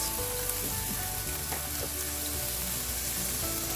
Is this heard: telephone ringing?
no